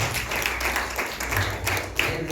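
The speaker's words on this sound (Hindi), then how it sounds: "हाँ ताली बजा सकते हो, जोरदार ताली बजाएं।" A church congregation claps in loud, sustained applause, a dense crackle of many hands that holds steady throughout with a few sharper claps standing out.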